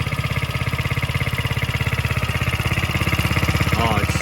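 A Coleman mini bike's small engine idles close by with a steady, even putter of rapid firing pulses, and a voice is heard briefly near the end.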